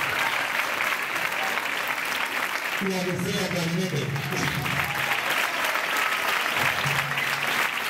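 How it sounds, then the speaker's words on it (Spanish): Sustained applause from a Christmas festival crowd for the teacher of a municipal band, dense clapping throughout with a voice speaking briefly over it midway. "Aplausos para la profesora."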